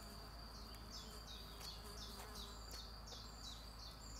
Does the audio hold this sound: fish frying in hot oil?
no